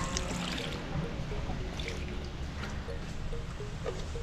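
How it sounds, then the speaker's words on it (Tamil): Water is sprinkled lightly over a rose plant freshly repotted into soil, giving a steady soft trickling and splashing that runs throughout at a moderate, even level with no talking. "இப்போ இதுக்கு கொஞ்சமாக தண்ணி தெளிச்சு விட்டுறலாம்."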